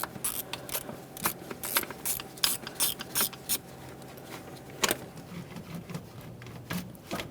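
A ratchet works the bottom center intake bolt on a 1998-2011 Ford Ranger 2.3L four-cylinder, giving close bursts of rapid clicking with short pauses between strokes and no talking.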